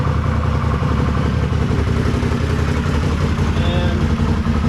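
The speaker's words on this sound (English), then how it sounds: "So I just started the bike up," A 1982 Honda Silverwing GL500 motorcycle with a faulty temperature gauge idles nearby with a steady, loud mechanical rumble and clatter, running continuously throughout.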